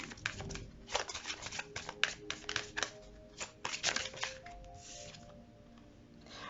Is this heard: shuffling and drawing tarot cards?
yes